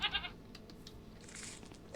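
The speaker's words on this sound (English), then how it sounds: "Just a random goat called that in the wild." A goat in the Minecraft video game gives a short bleat near the start, followed by faint, scattered game ambience and a soft higher cry later, all fairly quiet and with no speech.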